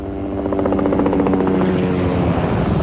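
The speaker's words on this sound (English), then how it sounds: "The Mi-8 is a classic Soviet helicopter" Soviet Mi-8 helicopter: loud, steady rotor thump with a turbine whine, close and continuous, swelling slightly at the start and then holding level.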